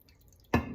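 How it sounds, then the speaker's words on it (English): A small splash of water is added to a pan of chicken set to poach, a single short pour after a near-silent moment. "I'm gonna add in just a little bit of water."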